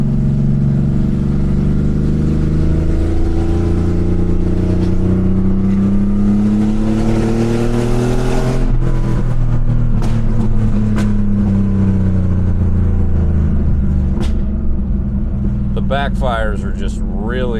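Close, loud exhaust note of an air-cooled Porsche 911 on a fall drive, a steady droning engine that bogs and shifts around halfway, with crackles and a brief rising rev near the end, and a voice talking over it.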